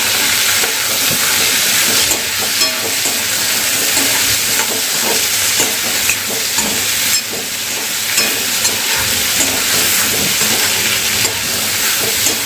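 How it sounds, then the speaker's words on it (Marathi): Potato pieces frying in plenty of hot oil for an egg-and-potato curry, giving a steady, loud, close sizzle throughout with occasional stirring scrapes and clinks; no one speaks. "आपल्याला घालायचा आहे बटाटा त्याला आपण चांगल्या तेलामध्ये फ्राय करून घेऊया"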